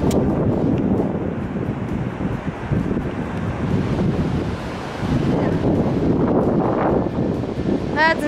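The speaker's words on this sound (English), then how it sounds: "The waves are really loud" Heavy ocean waves crash and roar on the shore, surging in rolling swells with strong wind noise buffeting the microphone throughout.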